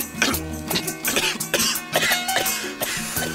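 A man coughs repeatedly after smoking kush, harsh hacking bursts in a rough steady rhythm, loud and close, over a thumping music bed.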